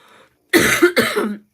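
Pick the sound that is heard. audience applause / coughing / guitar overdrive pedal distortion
coughing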